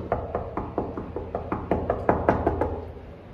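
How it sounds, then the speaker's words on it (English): Knuckles rapping on a hotel room door in Hotel Norge, about a dozen close, sharp knocks in quick loose groups, louder toward the end, with no talking. "We're going to knock."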